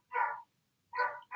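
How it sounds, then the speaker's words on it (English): A dog barks twice, clear but moderately faint, with a pause between the barks and a third beginning at the end. No other sound is heard. "Oh, sorry, my dog's barking."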